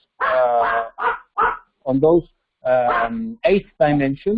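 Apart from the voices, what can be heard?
dog barking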